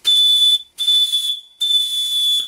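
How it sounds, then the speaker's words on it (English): A steam whistle on a model steam plant sounds three times after adjustment, giving loud, steady, high-pitched blasts with short gaps between them and no voices. "I think a steam whistle is a better idea for this plant"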